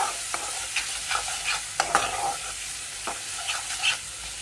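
Spice paste frying for a rujot leaf curry with koi fish, a steady close sizzle with repeated light clicks and scrapes of a stirring spoon against the pan.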